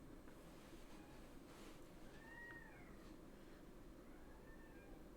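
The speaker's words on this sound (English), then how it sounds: "The worst thing is he starts yelling and then all the other cats will also start to scream because of it." Several loud, drawn-out meows from a cat in a kitchen, rising and falling over about five seconds against a steady background hiss.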